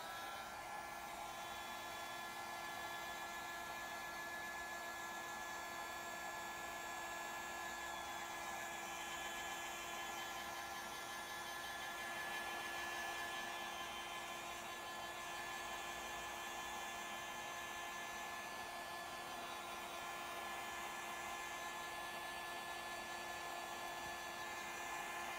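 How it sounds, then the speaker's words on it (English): A craft drying tool, used on paint-coated mason jars, blows steadily with a constant whirring, airy hiss and a faint motor tone, running unbroken and close for the whole stretch with no talking. "So I'm gonna grab my drying tool here. We'll turn this on for just a second."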